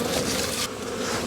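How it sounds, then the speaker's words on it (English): Bees buzz in a dense, continuous drone at the front of a hive in an Australian bee yard, many insects close by, loud and steady with no speech. "I'm just going to shake these bees at the front of the hive first."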